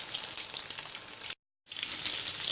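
Marinated chicken frying in a pan, a steady close hiss and sizzle that cuts out briefly before returning at the same level.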